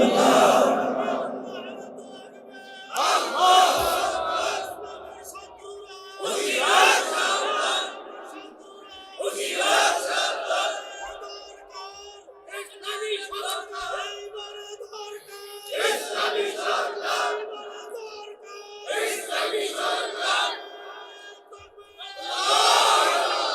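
A large crowd at an outdoor Islamic sermon gathering roars Allahu Akbar in answer to a takbir call, repeated loud collective shouts in bursts every few seconds, alternating with a single voice leading the call.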